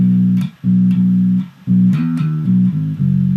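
Bass guitar sounding an open A then moving to C in a bass line: a long, close, sustained low note, a short break, then a run of shorter pitched notes.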